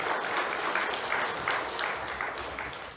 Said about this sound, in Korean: 귀한 찬양해 주신 우리 성가대에게 여러분 박수 한번 주십시오.